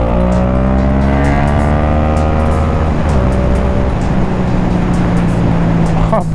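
A motorcycle accelerating hard on the road, its loud engine snarling up through rising pitch sweeps under steady wind rush, close and continuous without pause.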